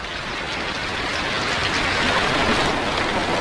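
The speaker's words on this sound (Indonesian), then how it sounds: "Hujan turun membuat suasana di tempat itu semakin seram." Rain falls steadily in a dense, even hiss that builds slightly in loudness, with no voices present.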